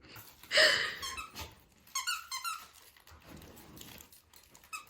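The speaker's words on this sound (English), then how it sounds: "every time I start to talk, she squeaks a toy" A dog squeezes a squeaky toy indoors, giving a loud burst of squeaks near the start followed by a run of quicker, fainter squeaks, with no talking.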